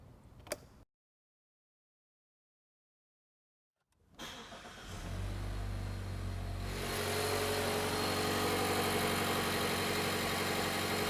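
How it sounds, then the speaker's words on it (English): Car engine starts after a jump start with a portable jump pack, cranking briefly after a silent gap and then settling into a steady, close idle hum. "Once the vehicle is running, we'll disconnect our jump pack"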